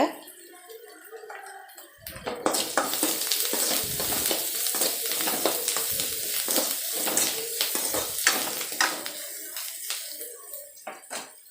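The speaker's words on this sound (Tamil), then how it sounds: "வெங்காயம் பச்சை மிளகாய் கருவேப்பிலை போட்டு நல்லா வதக்கியாச்சு" Onions, green chilies and curry leaves sauté in oil for a ragi noodle dish, a steady close sizzle with scraping stirs and clinks of a utensil against the pan after a quieter start, with some voice in the background.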